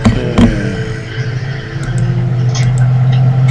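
Truck engine sound effect rumbling steadily at a low pitch through a tabletop role-playing game session, fairly loud and continuous, with a brief thump near the start and light ticking higher up.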